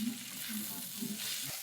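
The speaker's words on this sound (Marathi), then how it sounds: "परतत आहे मी पोहे." Poha is stir-fried in a pan with a soft sizzle and faint scraping, quiet and close, over a brief stretch with no one talking.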